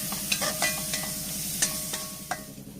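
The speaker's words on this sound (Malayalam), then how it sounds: "ഉള്ളിയും മുളകൊക്കെ ഒരുവിധം മൂത്ത് വന്നിട്ടുണ്ട്" Onions and chillies fry in a pan for a Kerala-style breadfruit thoran, a soft steady sizzle broken by rhythmic spatula scrapes and taps, with no one speaking.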